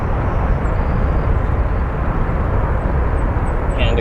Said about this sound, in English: Smokeless landing for that Spirit A320 in one of the more colorful liveries.